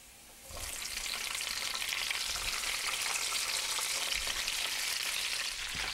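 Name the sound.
red peppers sautéing in garlic oil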